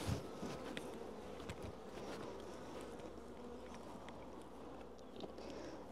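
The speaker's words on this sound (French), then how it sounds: "On le secoue un coup pour retirer les abeilles dessus" A low, dense hum of honey bees swarms around a beehive frame as it gets shaken, a steady buzzing drone that stays faint and continuous throughout.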